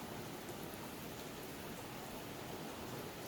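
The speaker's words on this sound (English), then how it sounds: "I have such a refreshing rain going on right now." Steady rain falls outside a house with a leaf roof, a dense, even hiss of drops heard close and unbroken, with no voices.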